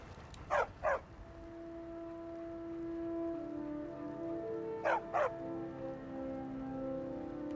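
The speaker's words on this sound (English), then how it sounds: "You're barking too much." A dog companion in the video game Skyrim barks two quick double bursts, a few seconds apart, over a steady rain-like background hum and a sustained low tone, with no talking.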